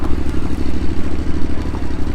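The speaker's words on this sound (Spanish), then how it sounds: "Allí detrás hay una moto con el motor encendido y el tío no se va" A motorcycle engine idles nearby with a loud, steady low throb and rhythmic pulsing, running continuously without revving.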